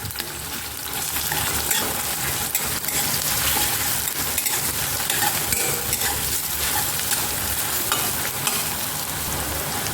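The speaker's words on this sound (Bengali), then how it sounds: "পেঁয়াজ কুচিটা দিয়ে ভালো করে ভেজে নেব।" Chopped onion frying in hot mustard oil gives a steady, dense sizzle lasting throughout, with occasional stirring clinks from a spatula against the pan, close and loud, with no voices.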